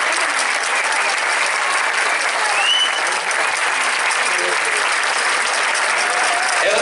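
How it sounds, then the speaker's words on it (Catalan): Sustained, loud applause from a crowd at a gathering of traditional dance groups from the Maestrat, clapping steadily and evenly for a local dance group throughout, with no voices rising above it. "un fort aplaudiment per al grup de danses de Barcella"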